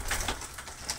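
Pigeons coo softly in a loft, a few low muffled calls close by over a bit of background noise.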